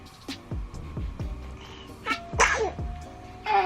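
A single sharp sneeze bursts out mid-clip, close and loud, amid faint tapping and handling noises while distressing pants.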